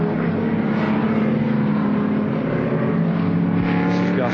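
Ford GT race car on the Warwick Farm circuit in 1973, a loud, steady engine roar holding its pitch at speed down a long straight, with no voices.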